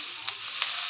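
Grated coconut roasting in ghee in a kadai for ukdiche modak gives a soft, steady sizzle, with two brief stirring scrapes rising out of the hiss and no voices.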